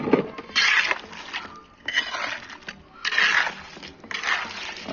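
A hand-mixed batch of cement for colored interlock paving blocks is worked in gritty, scraping bursts, four rough strokes of rasping and crunching at close range with short pauses between them.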